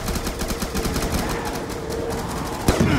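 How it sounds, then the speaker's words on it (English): Upgraded Tommy gun in Call of Duty Black Ops 2, rattling out rapid automatic fire under a busy game soundscape, with a sharper hit near the end. "I shot him 50 times with the upgrade Tommy gun"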